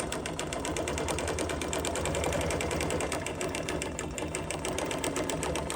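A sewing machine quilts slowly along a ruler, its needle chattering in a steady, even rhythm that carries on without pause, close and fairly loud.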